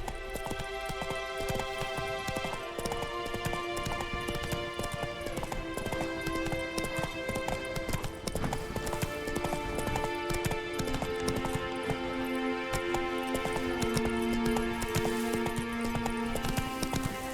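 Roach, a horse in the Witcher video game, with hooves clip-clopping in a steady rhythmic gait over a dense layer of game music, running continuously and fairly loud.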